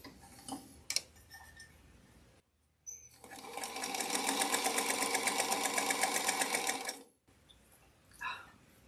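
Chain piecing quilt blocks for a potato chip quilt with quarter-inch seams, a sewing machine hums in one sustained, rhythmic ticking run of about four seconds, framed by quieter fabric handling and small clicks.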